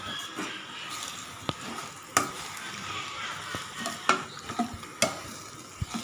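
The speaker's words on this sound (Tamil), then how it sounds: "நல்லா ஒரு நிமிஷம் நல்லா நம்ம எண்ணெயிலே நல்லா நம்ம வதக்கி விட்டுக்கலாம்" Sambar powder sautéing in hot oil for a tomato sambar, a steady sizzle broken by repeated sharp spatula scrapes and taps against the pan.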